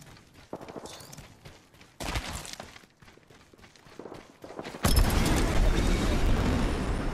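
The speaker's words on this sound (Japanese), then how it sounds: "後ろバリ銃声してるけど" Gunfire in the video game Apex Legends rattles in the background, muffled bursts and thumps mixed with footsteps and movement, swelling into a louder, denser barrage near the end.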